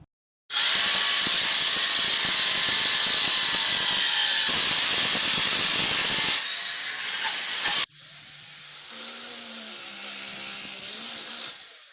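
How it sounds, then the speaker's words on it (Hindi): Electric drill boring a hole through a wall to mount an outdoor light during bathroom wiring work, a loud steady whine lasting about seven seconds, then stopping, with lower tonal machine hum following. "तो उसके लिए पहले हम ड्रिल कर लेते हैं"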